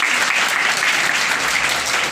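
Children clapping at a school trophy ceremony, a steady dense wash of applause held evenly throughout at close range with no pauses.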